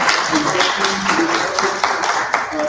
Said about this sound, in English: So I'd like for us to please applaud Vice President Johnson